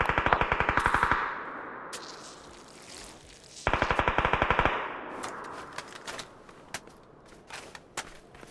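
Rapid automatic gunfire bursts and single rifle shots crack through a video game firefight where an AWM sniper rifle is in use, with two long loud volleys followed by scattered separate shots ringing out.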